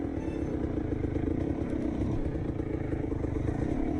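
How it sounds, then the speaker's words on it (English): A dirt bike engine plays from a video, a loud, steady droning motor with rattling clatter that runs unbroken and without speech. "I feel like dirt bikes would be fun if they weren't so loud."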